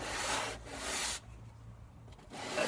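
Dremel 4000 rotary tool sanding a crack in wood makes a soft, faint rubbing rasp that comes in short bursts, with a quieter pause in the middle before the sanding resumes.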